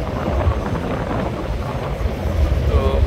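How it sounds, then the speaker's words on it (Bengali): The passenger launch Parabat-18 cruises fast on a river, overtaking another launch, giving a loud, continuous roar of engine and rushing water mixed with wind buffeting the microphone. "আর এদিকে দেখতেছেন আজকে পারাবত 18 কতটা গতি দিয়ে চলতেছে, যে ভোলার কর্ণফুলী 10কে ওভারটেক করতেছে।"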